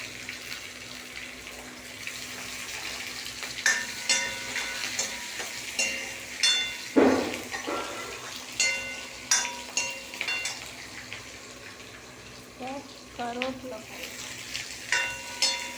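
Onion and green chili fry in a pan, a busy sizzle with scattered clinks and scrapes of stirring, close and steady throughout, with a sharper clatter near the middle.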